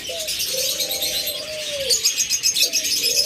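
Pet birds at a seller's shop, among them lovebirds, forpus parrotlets, budgerigars, cockatiels and finches, call continuously: smooth rising and falling coos overlaid with dense, bright chirping and twittering, fairly close and steady throughout.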